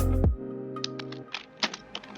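A command typed on a computer keyboard: a dull thunk opens, then a handful of quick, light key clicks in an uneven rhythm over a faint lingering hum.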